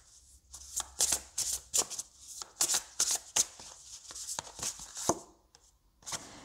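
Oracle cards are shuffled and drawn by hand in a quiet room, giving a series of crisp, close riffling bursts with short pauses between them and no talking.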